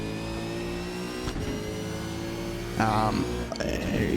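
A V8 Supercar at race speed during qualifying, with a steady onboard engine drone and another car passing close by near the end, heard under ongoing talk.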